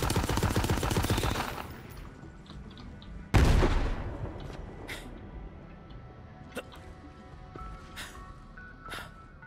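Rapid automatic gunfire in Borderlands 3 aimed at power cables, a loud sustained burst that stops, then a sharp blast followed by scattered single cracks and fading impacts.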